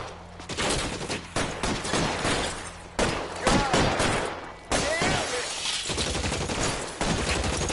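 Shotgun fire in L.A. Noire during a shootout, heavy repeated blasts and crackling volleys that come in loud waves with brief lulls, dense and close throughout, with no talking.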